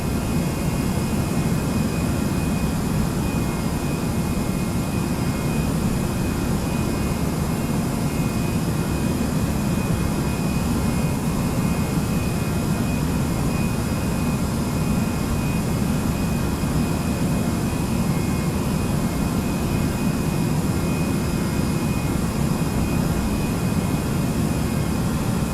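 Continuous jet airliner engine drone in Microsoft Flight Simulator X during cruise on a Boston to Philadelphia flight, a steady low roar with a faint high whine throughout, unchanging and alone.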